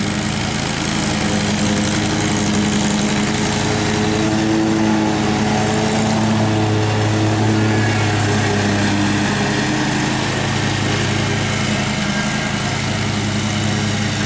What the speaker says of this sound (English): These are gas mowers.